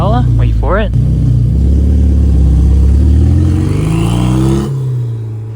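A Porsche 911 R sports car revs hard and rises in pitch, then the engine note fades away, loud and close, with a brief voice at the start.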